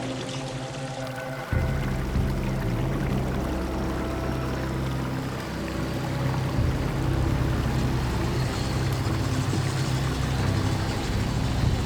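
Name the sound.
truck driving on muddy Bolivian road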